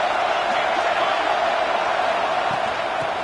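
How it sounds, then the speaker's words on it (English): A football stadium crowd at an FSU vs UCF game roars in a steady, dense wash of cheering that holds for a few seconds without a break. "This crowd rising up, sensing that its defense needs some help."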